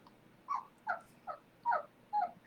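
A puppy whines and cries from another room, six short high whimpers in an irregular rhythm, faint and somewhat distant against a quiet background.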